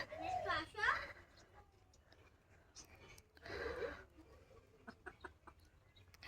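Chickens cluck in short bursts, with a couple of louder squawky calls over a quiet outdoor background and scattered faint clicks.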